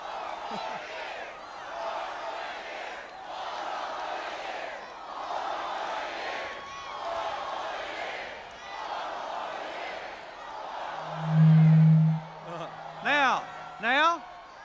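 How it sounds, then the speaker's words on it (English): An outdoor rally crowd cheers and murmurs in uneven swells while a presidential microphone stays dead, followed by sharp feedback tones and whistling squeals near the end. "Cheer a while we wait."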